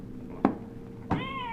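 An electronic cat meow sounds from the Exploding Kittens card game box, two short cries with the second drawn out, close and clear with no talk.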